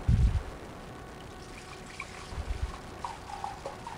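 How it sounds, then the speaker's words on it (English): Melted candle wax poured into a clean glass container, a soft, faint trickle with a few light clinks and bumps near the start and middle, otherwise quiet. "And you just pour wax right into it."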